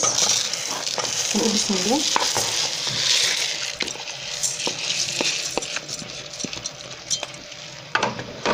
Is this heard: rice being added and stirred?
yes